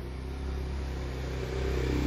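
Honda Vario 125 scooter with a faulty TPS, engine humming steadily and rising slightly on the throttle, a close, continuous low rumble.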